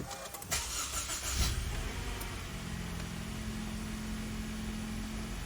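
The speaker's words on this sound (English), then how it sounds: "Car starts, no problem." A Honda CR-V engine cranks briefly, catches with a loud burst, then settles into a steady idle hum, heard close up from inside the car.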